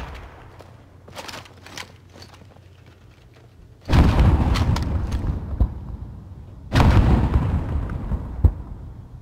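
Two loud, booming grenade blasts go off in a video game shooter, each striking suddenly after quieter scattered pops and rumbling away over a few seconds.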